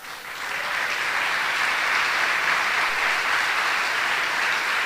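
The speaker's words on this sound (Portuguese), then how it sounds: "Vamos aplaudir ao Senhor." A church congregation applauds during a sermon, with steady, dense clapping that swells in and holds loud for several seconds.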